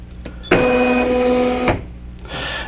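An embroidery machine checks its hoop for a stocking project, running a steady electric motor whir with a tonal hum for about a second, then stopping with a click, followed by a brief quieter mechanical whir.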